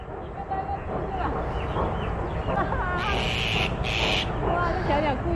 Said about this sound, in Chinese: 你看天上的小鸟啊，飞在枝头上